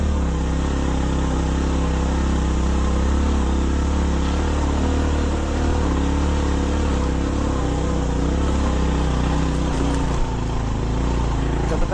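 An off-road truck engine labours steadily in low gear while climbing a rough mountain track toward a hill temple, a loud continuous rumbling drone with no letup.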